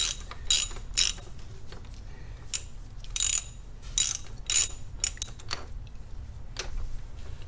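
A ratchet clicks in several quick bursts while snugging the bolts of an oil cooler thermostat plate on a car, close and crisp, with short pauses between runs of tightening and no talk.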